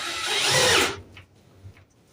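A cordless drill whirs loudly for just under a second during work on a trackless train project, then cuts off, leaving faint clicks and quiet shop ambience.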